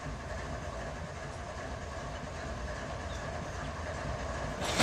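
A train in the Run 8 railroad simulator rumbles along steadily with a faint rhythmic clatter of wheels, a constant close drone that swells slightly at the very end.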